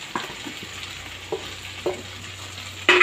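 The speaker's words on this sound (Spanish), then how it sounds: "Revolvemos para integrar todos los sabores con el pollo." Chicken frying in a pan with a soft steady sizzle, broken by several scraping stirs and a louder clatter at the end.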